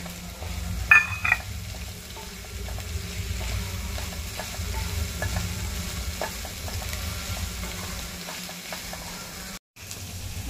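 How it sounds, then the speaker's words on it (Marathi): Cauliflower stems sautéing in a pan for a cauliflower and pea curry, a steady close sizzle with occasional scraping stirs and a sharper clatter near the start. "हे जे फ्लॉवरच्या तुऱ्याच्या खाली जो असतो ना गाभा, तर ते पण आपण याच्यात परतून घेतोय."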